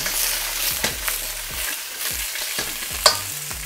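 Ribs with ginger and spring onion stir-fried in a little oil for sweet and sour ribs, a steady sizzle broken by scraping utensil strokes and a few sharp clanks against the pan.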